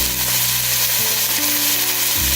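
Chopped red onions sizzle steadily in a pan of hamburger beef over medium heat, a constant close hiss and crackle with a low hum running underneath.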